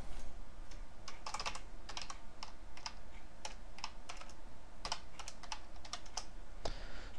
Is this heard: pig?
no